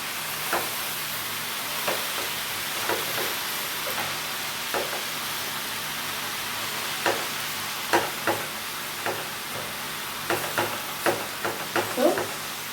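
Tempering for dal sizzles and hisses in a pan, a steady frying crackle with scattered sharp pops and stirring clinks growing busier toward the end.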